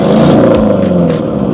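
A car engine with all its mufflers removed and a straight pipe revs loudly and close by, giving a continuous, raspy roar that swells and holds for the whole moment with no talking.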